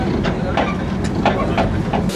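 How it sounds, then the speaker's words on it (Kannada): The Darjeeling toy train rolls into one of India's oldest railway stations, wheels clacking in a slow, uneven rhythm over a low rumble, close by and fairly loud. "ಸೊ ನಮ್ಮ ಟ್ರೈನ್ ಬಂದು ಈ ಒಂದು ಸ್ಟೇಷನಲ್ಲಿ ನಿಲ್ಲಿಸ್ತು."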